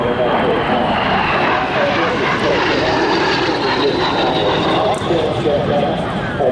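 L-39 Albatross jet trainer, a Czech-built aircraft, flying at an airshow, a loud continuous engine roar with a rising whine that stays steady and close throughout.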